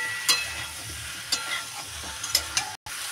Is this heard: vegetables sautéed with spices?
yes